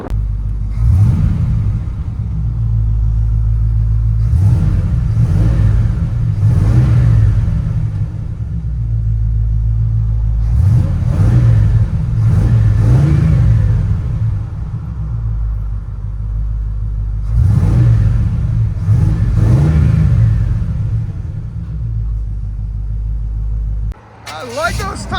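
Cabin sound of a 1980 Chevy C10 with a 350 V8, headers and Borla ProXS exhaust: a loud, steady low rumble with several rising revving swells, while someone talks over it throughout.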